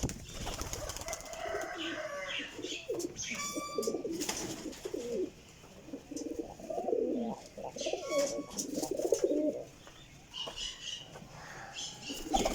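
Pigeons kept in a pigeon dealer's coop coo in soft, repeated low murmurs, with occasional wing flaps and rustling close by.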